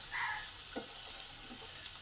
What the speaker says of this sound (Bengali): লঙ্কাটা আর টমেটোটা ভালো করে কষে নেব।